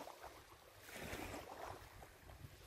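Faint sea waves near a seaside village, a soft, continuous wash of surf mixed with light wind buffeting, heard from a distance with no voices.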